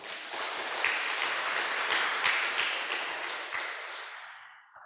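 Audience applause at a church sermon gathering, a dense sustained clapping that continues steadily for several seconds and then tapers off near the end.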